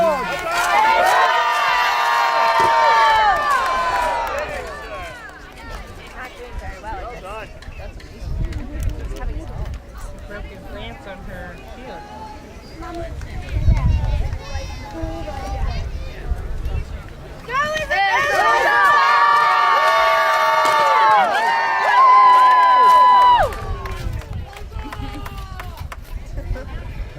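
Crowd cheering and shouting at a jousting match between knights at a Renaissance fair in Connecticut, loud swells of voices rising at the start and again near the end, with a steady murmur of the crowd in between.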